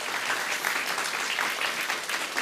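Round of applause at a graduation speech for the graduates' parents and loved ones, dense even clapping from a large audience throughout, with no voices over it.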